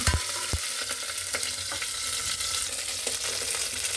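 Green chillies and cumin seeds sizzle in hot oil, a dense close crackle and hiss that holds steady, with a few knocks and scrapes of stirring mixed in.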